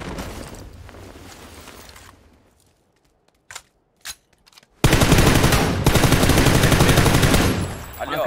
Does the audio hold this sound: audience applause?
no